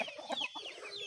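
A Shamo-Basilan crossbreed hen clucks close by in a short run of soft, rapid, rhythmic clucks at a steady level, with no other sounds.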